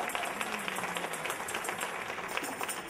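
A church congregation at a COGIC AIM convention applauds in a continuous, dense wash of many clapping hands, fairly loud and sustained throughout, with a faint hint of voices underneath.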